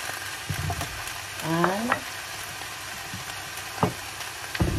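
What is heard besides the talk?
chicken frying in oil for adobo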